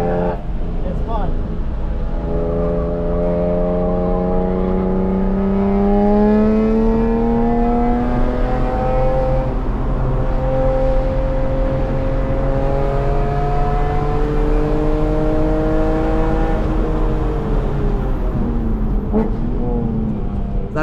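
A BMW E46 M3 on a race track, its engine note rising and falling through gears as it accelerates and revs continuously at close range, with steady road and wind roar beneath.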